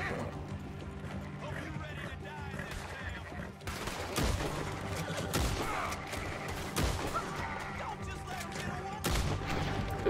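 Gunfire rings out in Red Dead Redemption 2 amid horse whinnies and clip-clopping hooves, sharp shots punctuating a busy, layered game soundscape with a voice underneath.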